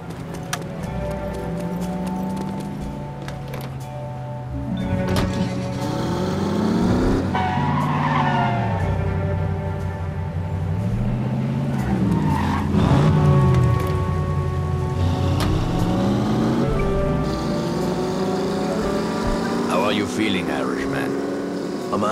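A car in The Saboteur drives with a steady engine drone, and repeated tire skids whine and swoop as it corners, loud and close over background music.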